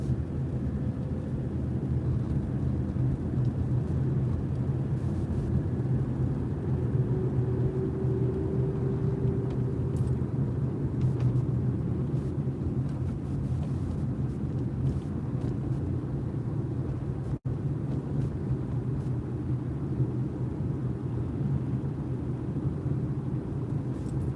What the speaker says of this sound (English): Pay no attention to the traffic on the road